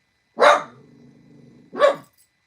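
A dog gives two sharp barks about a second apart, with a low rumbling growl running between them, fairly close and loud.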